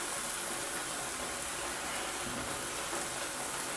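Beef pieces browning in a pan with carrots and onion, a dense, continuous close sizzle and frying hiss with no break.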